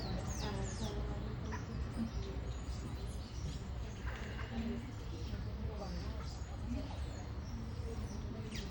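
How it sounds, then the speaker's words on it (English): Wild birds at a feeding area on the Bogarin Trail in Costa Rica, with scattered chirps and tweets from several birds over a constant outdoor hum and nearby talking. "At the very beginning of the trail is this bird feeding area, and these birds are just amazing."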